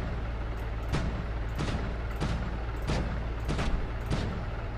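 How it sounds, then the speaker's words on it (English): Cannon shots fire in DCS World, a steady series of about six sharp reports spaced roughly evenly over a constant low engine drone. "I'm going to put a few more shots downrange"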